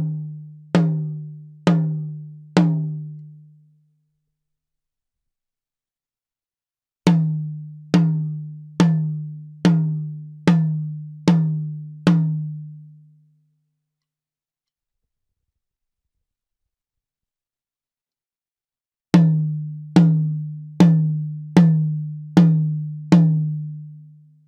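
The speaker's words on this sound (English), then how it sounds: "Notice how the sound changes as I move the mic in relation to the drum." A tom drum miked with a Shure Beta 57, with the mic moved around the drum, is struck in three bursts of about four, seven and six quick hits. Each resonant hit rings and decays, with silent gaps between the bursts.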